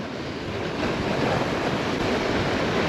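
Powerful surf pounds a rocky coastline in a steady, loud wash of breaking water, with wind noise rumbling across the microphone throughout.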